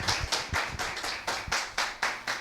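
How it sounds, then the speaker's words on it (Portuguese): Rhythmic clapping for a student before her thesis presentation, a small group clapping in unison with about ten evenly spaced, close claps. "Palmas para a nossa querida aluna Elaine"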